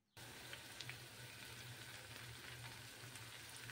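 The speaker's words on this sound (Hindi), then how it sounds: "तेल भी अच्छे से गर्म हो चुका था तो मैंने इसमें एक एक एक ऐड कर दिया" Bread and chicken snacks frying in hot oil, a steady close sizzle with dense crackling hiss and faint low bubbling that starts abruptly and continues evenly, with no talk.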